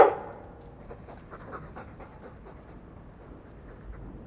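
A dog pants in the fantasy role-playing game Dragon Age 2, a steady run of quick, breathy huffs that carries on evenly for several seconds at moderate loudness after a brief louder onset.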